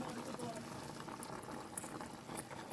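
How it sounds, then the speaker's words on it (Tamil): Water bubbling at a steady boil in a pressure cooker while chicken biryani is being made, a soft continuous simmering hiss with small pops, faint and close. "கொதி வந்துடுச்சு."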